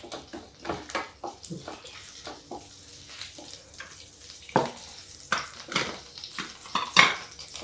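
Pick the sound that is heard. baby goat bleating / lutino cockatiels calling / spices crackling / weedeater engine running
spices crackling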